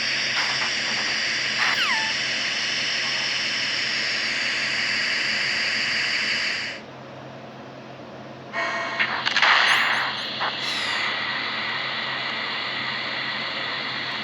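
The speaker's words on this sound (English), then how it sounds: "That's an air cleaner for blowing tiny particles of dust off people's bodies before they enter the lab." An air cleaner blasts dust off bodies at a lab entrance in Metal Gear Solid, a loud steady hiss of blowing air that cuts off partway, then resumes in bursts and settles.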